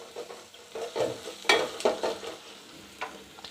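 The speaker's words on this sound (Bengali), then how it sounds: "এই পেঁয়াজটা আমরা বেশি ভাজবো না, একটু হালকা ভাজা দেবো।" Half a cup of onion frying lightly in a pan for a chicken soup, with soft sizzling and several stirring scrapes of a spatula at uneven intervals, close and moderately quiet.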